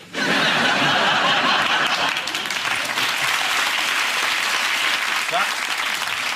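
A studio audience breaks into sustained, loud applause on a TV news comedy show, steady broadband clapping mixed with some chuckling and laughter, with no speech over it.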